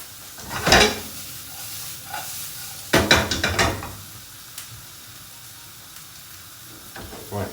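Sichuan stir fry with broccoli and cashews sizzles in a very hot pan, with a low steady hiss under a few sharp bursts of stirring and tossing, quiet between the bursts.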